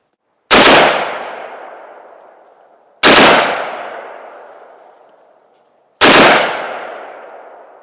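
An AR-15 rifle fitted with a Fostech ECHO binary trigger fires three loud, sharp semi-automatic shots a few seconds apart outdoors, each crack trailing off in a long ringing echo.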